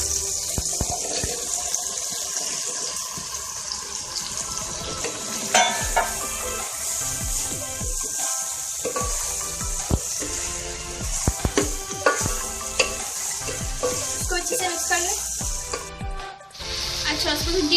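Okra hits a hot pan and fries with a loud, continuous sizzle and crackle, mixed with scraping stirs and a running tap, while someone talks faintly in the background.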